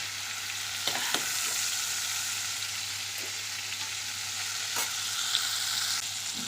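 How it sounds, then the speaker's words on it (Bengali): Shrimp fry lightly in hot oil with a constant, even sizzle, broken by a few soft stirring scrapes and taps against the pan. "এই চিংড়িটা আমি হালকা করে ভেজে তুলে নেব"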